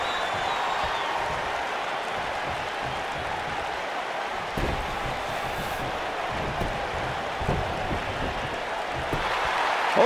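A broad, steady arena crowd roar fills the whole stretch in the WWE 2K19 wrestling game, an electric audience in Columbus, loud and unbroken with faint swells and no clear speech over it.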